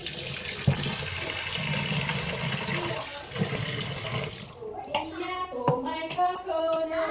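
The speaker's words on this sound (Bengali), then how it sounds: "সাদা পাউডারটাকে ভালো করে রগড়ে ধুয়ে নিচ্ছি।" Running tap water splashes as 250 grams of sago pearls are rubbed and rinsed by hand, a continuous gush with rubbing noises that cuts off partway, followed by someone talking.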